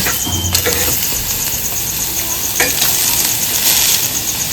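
Mourala fish paturi wrapped in a leaf fries in a pan, giving a constant close sizzle with scattered crackles and pops and no talking.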